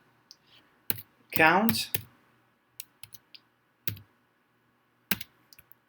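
Computer keyboard typing while code is entered, scattered crisp key clicks spaced irregularly around a brief spoken word, close and fairly quiet.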